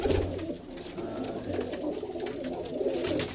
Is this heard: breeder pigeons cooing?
yes